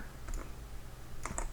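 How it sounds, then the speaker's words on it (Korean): A computer keyboard key is pressed while working in 3ds Max: a couple of faint click bursts near the start and a sharper pair of clicks near the end, quiet and close. "Alt 키를 누르고"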